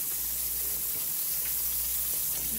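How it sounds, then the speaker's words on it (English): Smoked paprika pork chops frying in a pan on a home stove, giving off a steady, even sizzle with a soft hiss throughout and no talking. "That's a perfect sizzle on those."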